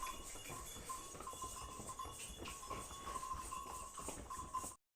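Several horses clip-clop along a pilgrimage path from Ardhkuvari to Maa Bhawan, a fairly quiet, irregular patter of hooves over a busy outdoor hubbub, with a faint ringing tone now and then.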